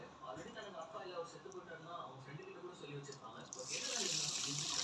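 Black kavuni rice being washed in water, with soft splashing and running tap water that swells louder toward the end, while someone talks throughout.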